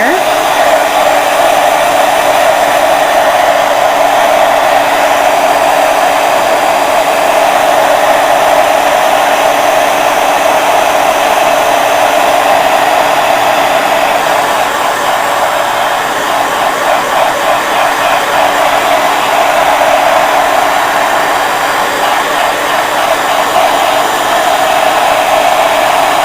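A heat tool blows steadily while drying distress ink on a stamped paper tag, a loud, continuous close-up whoosh that holds without pause for a long stretch.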